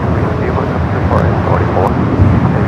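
A jet airplane taking off from the north side runways at LAX, a loud broad engine roar with wind buffeting, steady and close throughout, while a person talks over it.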